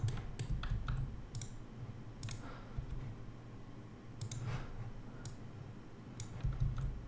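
Computer mouse clicks during 3D car model editing for Assetto Corsa modding: scattered sharp, light clicks at uneven intervals, some in quick pairs, over a faint low hum.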